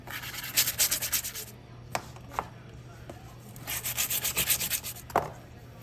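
Stainless steel trim from a 1955 Chevy armrest rubbed and cleaned by hand, two bursts of quick, rhythmic rubbing strokes with a few isolated scrapes between, close and fairly loud.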